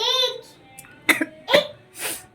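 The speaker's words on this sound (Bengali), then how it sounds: "দেখতে পাচ্ছ তো কাশি হচ্ছে" A person with a cold coughs three times in short, harsh bursts close by, after a brief moment of voice at the start.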